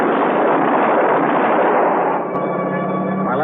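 Gunfire sound effect in an old-time radio detective drama, shots aimed at a helicopter overhead, heard as a dense, loud burst of blasts and rumbling noise that fades somewhat near the end.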